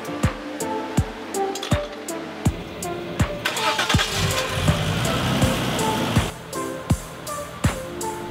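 A Holden VL Commodore with a turbocharged RB30E engine being tuned cranks and catches, sharp ticking strikes giving way to a rough mid-pitched idle that settles before more clicks, close and moderately loud.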